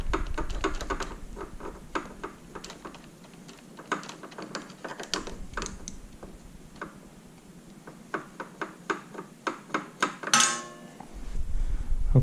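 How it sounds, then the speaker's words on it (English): Screwdriver working a screw clamp on the carburetor of a 2000 Honda Rancher 350 ATV, giving a long run of small metallic ticks and clicks, close and fairly quiet, with a rhythmic ratcheting series near the end. "I'm going to remove this screw, this clamp that's holding on, the clamp that is on the carburetor."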